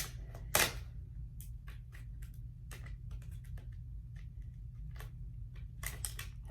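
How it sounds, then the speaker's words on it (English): Scissors snip open the packaging of a bread knife: a string of crisp, irregular clicks and plastic crinkles, close by, over a low background rumble. "Luckily I have scissors, or I'm gonna need another knife to open up this knife."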